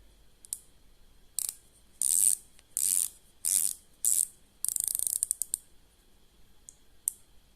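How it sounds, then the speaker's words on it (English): Dive watch bezel turned by hand, giving a series of thin, crisp ratcheting clicks in short bursts, some clicks spaced singly and others rattled off fast, close and clear in a quiet room. "It's a thinner click than some other dive watches, but it's very solid, robust bezel."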